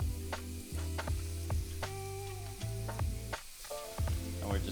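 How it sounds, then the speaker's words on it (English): Beef searing in a hot cast iron skillet gives a steady, close sizzle and crackle with faint stirring scrapes and taps; no voices are heard. "you want a nice hot cast iron skillet. That's the sound you want to hear."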